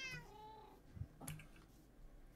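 Pet cat in the Minecraft video game giving a few soft meows in quick succession, faint and alone.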